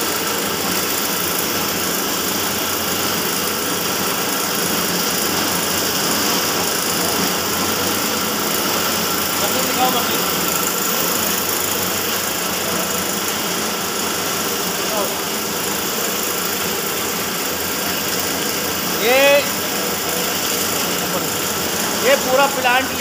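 A puff-making food processing machine at a packaging plant runs with a steady loud mechanical drone and hum, unbroken throughout, with a few brief clanks near the end and people talking over it.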